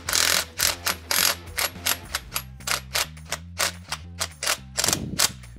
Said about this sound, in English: We will need to torque them to 27 foot-pounds.